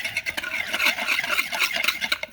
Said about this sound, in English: And I'm just going to whisk it together.